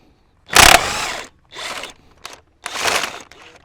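A ratchet working 18 millimeter nuts on a 2007 Ford Focus 2.0 during a tensioner and idler pulley job, giving several short bursts of rapid clicking separated by brief pauses, close and clear with no talk.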